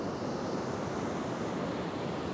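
Ocean waves breaking over offshore sandbars make a steady, loud wash of surf with constant roar and wind noise, no distinct individual crashes, and no voices.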